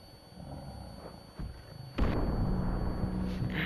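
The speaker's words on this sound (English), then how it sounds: "Explosion!" A sudden booming video game explosion in Far Cry 4 cuts in after quieter rumbling, followed by a sustained roar and crackling debris.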